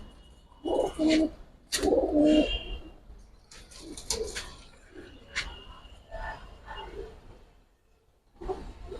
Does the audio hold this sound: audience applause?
no